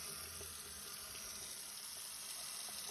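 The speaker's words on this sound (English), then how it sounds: "Hot water here, make sure it drains properly" Hot water runs steadily from a sink faucet into the basin, a soft continuous splash and hiss at low level with no voices.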